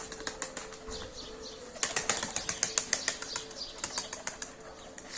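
Rapid, crisp wing flaps from a tumbler pigeon, a burst of sharp claps in quick succession over faint outdoor ambience.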